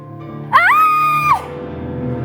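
A woman lets out one loud, sustained scream of emotional release. It lasts about a second and rises sharply before holding steady, then cuts off, leaving a low murmur of room noise.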